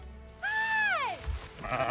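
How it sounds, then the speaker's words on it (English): A single drawn-out sheep bleat from a video game farm pen in Surviving the Aftermath, loud and close, with wavering pitch that falls at the end, then a quieter rustle of background game ambience. "we're also going to have the sheep that just arrived, and they'll go into this pen for sure"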